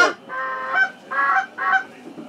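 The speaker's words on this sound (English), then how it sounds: "I see some geese out" Geese honk in a short series of three or four nasal calls, fairly close and clear against a quiet background during a duck hunt.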